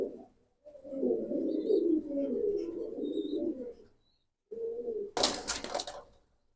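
Jobra Pankhi pigeons cooing nearby in a low, throaty, sustained run, a pause, then another short coo and a sharp burst like flapping wings, with no talking.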